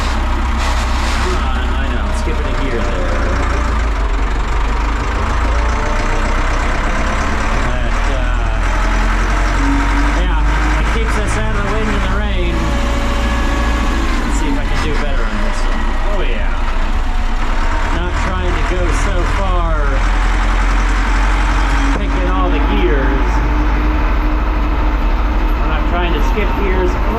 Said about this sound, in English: Other than it's incredibly loud in here, the cab is just a noise box.